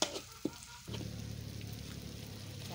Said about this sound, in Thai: เพิ่มพริกลงไปอีกจ้ะ ผัดพริกให้หอม